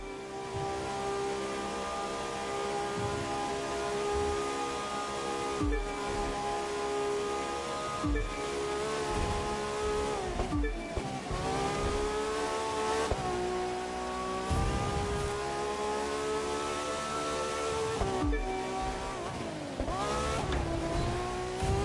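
A car engine in The Crew 2 racing game hums and revs continuously on a drive from St. George, Utah to Las Vegas, the steady tone rising and falling with gear changes and acceleration, no voices.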